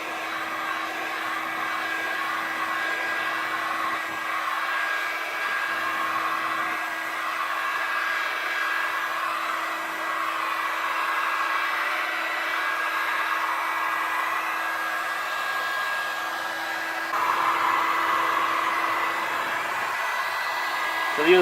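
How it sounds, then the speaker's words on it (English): A heat gun blows steadily over the foam surface of a LARP shield, a continuous airy roar like a hair dryer holding at an even level for about twenty seconds, with a slight rise near the end and no talk. "So the other thing the heat gun does,"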